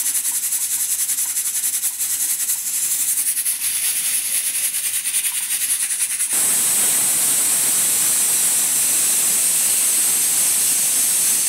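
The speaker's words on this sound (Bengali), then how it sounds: "আমি এখনো 5 থেকে 6টা সিটি দিয়ে নিব ছোলেতে, না তো ভালো মতো সিদ্ধ হবে না।" A pressure cooker vents steam while chickpeas cook. The hiss is steady and fairly loud, then jumps to a brighter, harsher blast partway through and holds there alone.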